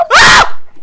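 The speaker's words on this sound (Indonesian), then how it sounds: "Bapak dia menjerit." A loud, close scream in a Malaysian village horror game on Roblox, rising sharply, holding for about a third of a second, then cutting off into quiet game ambience.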